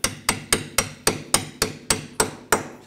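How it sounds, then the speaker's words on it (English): A hammer taps a bolt out of a rear wheel knuckle on a 2004-2009 Audi A4 Quattro, ten evenly spaced sharp metallic strikes ringing close and loud with no talking. "tap the bolt out."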